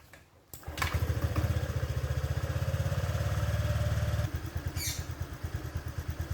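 A Honda Vario 125 scooter engine cranks and catches, then settles into a steady, close-up idle with a rapid low throb that later loosens into an uneven, slower pulse.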